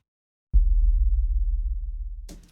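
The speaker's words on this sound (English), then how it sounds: "I hit like my big marcher kick really soft with like a soft beater, and it's just a good like sub drop kind of sound" A big marching kick drum struck softly with a soft beater gives a deep sub-bass boom that pulses and slowly fades over two seconds, closing with a brief brighter noise burst.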